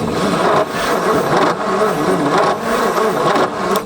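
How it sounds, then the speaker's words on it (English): An abandoned Ford F250, left sitting for decades, cranks over with its starter in a few rhythmic surging pulses, loud and close, the engine turning but not clearly catching. "Let's try it again, see if we can get some more cranks out of it"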